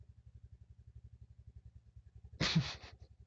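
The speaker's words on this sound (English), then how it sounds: "you started your motorcycle now. Please drive away." A motorcycle idles at midnight with a low, rapid, even putter, then a sudden loud burst of revving roars out near the end.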